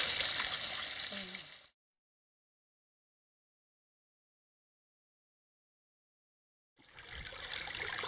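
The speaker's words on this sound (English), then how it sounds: "I thought I heard water." Soft, steady trickle of Willow Creek in a Death Valley desert canyon with a broadband hiss, heard in two stretches separated by several seconds of silence.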